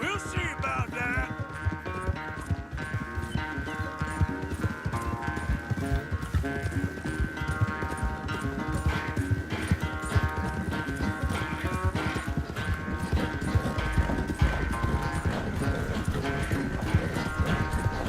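Horse hooves gallop in a steady rapid clip-clop throughout a race in the video game Red Dead Redemption 2, mixed with ongoing game sound and occasional faint voices.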